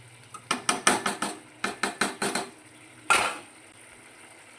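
Yogurt jackfruit curry being sautéed in a pan, heard as a quick series of metallic spatula clinks and scrapes against the pan in two short bursts, then a single louder scrape, with no talking.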